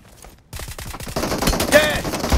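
Rapid gunfire from a VSS suppressed rifle in a multiplayer shooter video game, a dense burst of shots with a louder crack near the end, fairly close and continuous after a brief quiet start.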